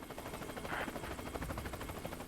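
Steady rhythmic thrum of a helicopter's rotor in the video game Worms W.M.D., held at a constant level with no talk over it.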